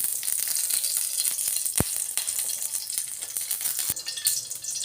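Cooking oil sizzles steadily in a hot pan, a loud, close, continuous hiss with a few sharp crackles and a faint utensil rattle.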